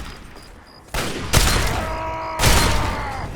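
Shotgun blasts in Fallout 3: two loud, close booming shots about a second apart, each with a ringing tail, over low game ambience.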